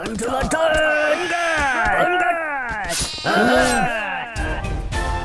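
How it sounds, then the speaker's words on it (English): Sheep in the video game Craft The World give several loud, wavering bleats in quick succession, overlapping one another, followed by a short burst of game sound effects. "I'm definitely going to kill these two sheep because I need the wool for certain items"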